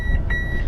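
Short electronic beeps from an RC plane's ESC in programming mode, with a steady tone and faint pulses over a low background hum; close and brief.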